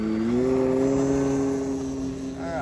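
Hangar 9 10cc J-3 Cub RC airplane's gas engine held at full throttle in flight, a loud steady buzzing drone with a slight pitch rise, heard outdoors without talk.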